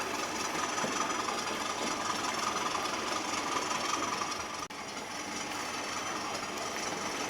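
Model railway layout with a class 8F steam locomotive, a Terrier and a class 20 diesel running laps, giving a steady broadband mechanical rumble and whir that holds throughout, with one brief dip near the end and no talking.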